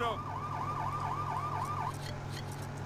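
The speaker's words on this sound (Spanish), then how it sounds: "Tío, tengo las sirenas, deberías apartar." A police car siren in the video game LEGO City Undercover wails in rapid repeated rises and falls over a low engine hum for about two seconds, then cuts out, leaving the motor droning on.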